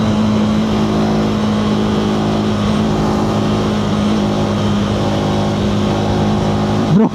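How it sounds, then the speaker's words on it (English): A loud, sustained motorcycle engine drone with a steady low tone holds throughout on a winter ride in Spiti, India, ending in a brief sharp rev at the very end. "Bro, this engine rev is fucking goated."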